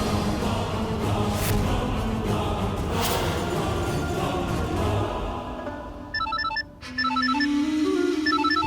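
A phone ringtone plays in short repeated electronic bursts after a stretch of loud broadband noise, clear and fairly close.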